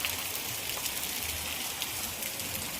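Heavy rain pours down steadily in Porbandar, a dense, even hiss of drops striking surfaces with a low rumble underneath, continuous and fairly close throughout.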